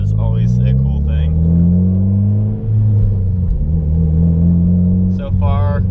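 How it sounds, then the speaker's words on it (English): Mitsubishi Evo X GSR with a manual gearbox, running on E85 and making about 427 wheel horsepower, pulls away from a stop. Its low engine rumble is steady and loud throughout, and brief speech comes over it. "All right, setting off in the Evo."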